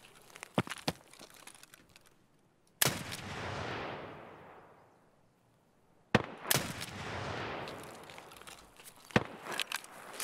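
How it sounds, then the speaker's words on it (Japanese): Two loud, sharp sniper rifle shots ring out in Escape from Tarkov, each followed by a long echoing tail rolling off for several seconds, with scattered footsteps and small clicks between them. "狙撃されてね"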